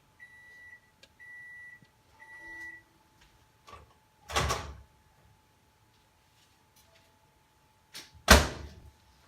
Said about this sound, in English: I'm used to just slamming my microwave.